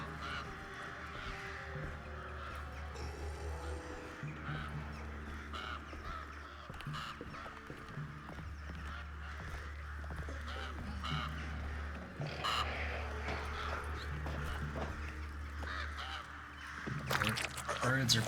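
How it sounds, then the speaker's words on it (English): Loud crow-like cawing from birds in the video game Alone in the Dark, repeated calls over a low ambient drone, with someone talking intermittently over the game sounds. "Birds are pretty loud."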